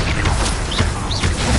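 A Confringo spell blast in the video game Hogwarts Legacy, a dense crashing burst with whooshing streaks through a steady loud clash of combat effects, no voices.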